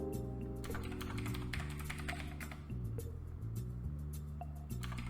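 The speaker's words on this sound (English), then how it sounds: "Now let's say we type in Atlanta here" Keys patter on a computer keyboard as an answer is typed into a Snap! programming project. The soft, quick taps sit over a steady electronic hum.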